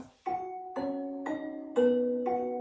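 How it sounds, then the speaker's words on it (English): A celesta plays the Oh Christmas Tree melody pitched down a couple of octaves into a bell-like tone, five sustained struck notes ringing in steady succession, clear and close with no voice. "So I took the celesta from the pre-chorus that plays the Oh Christmas Tree melody and bumped it down a couple octaves so it sounds more like a bell"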